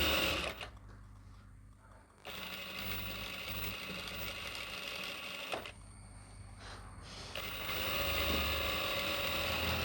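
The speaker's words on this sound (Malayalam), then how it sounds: "അതിന് തൊട്ടടുത്തൂടെ ഒരു പ്രഷർ കുട്ടിൻ്റെ അകലത്തിൽ വീണ്ടും തയ്ക്കുകയാണ്" Sewing machine stitching a churidar, running in two bursts of steady mechanical whirring separated by short pauses, close and clear, with no speech.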